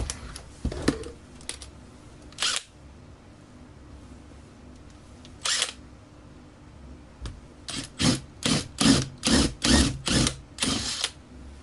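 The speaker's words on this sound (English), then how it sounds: "what I've done is basically just drilled the head of the pop rivet off" A drill bites through the head of a pop rivet on a fiberglass saxophone case in a string of short, loud, gritty bursts, sparse at first, then rapid and rhythmic near the end, with quiet pauses between.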